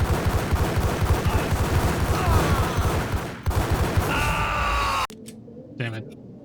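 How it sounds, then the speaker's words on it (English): Rapid machine-gun fire in the Max Payne shooter rattles in a steady, fast stream of loud bursts for several seconds before cutting off abruptly, leaving a quieter tail with a brief stray sound. "A machine gun? I want that."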